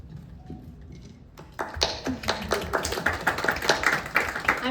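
After a quiet moment, an audience at a county council candidates forum breaks into steady clapping that continues to the end, moderately loud and fairly close.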